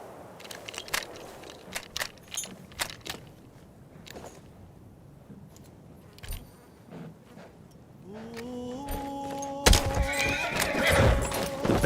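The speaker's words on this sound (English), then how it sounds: "The Bedouin treasured their horses, and in return, those animals granted their riders unparalleled speed and mobility." A horse neighs and whinnies in the Battlefield 1 video game, with game ambience and thuds beforehand, then a loud whinny rising near the end over crackling battle sounds.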